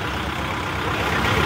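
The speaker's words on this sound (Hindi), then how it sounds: "आवाज़ भी सुना देना तुम स्टार्ट करके ट्रैक्टर की" A Kisan Bhiro tractor engine, designed by Kubota Japan, idles at an agricultural fair, giving a steady, fairly quiet low rumble that holds constant throughout with no speech over it.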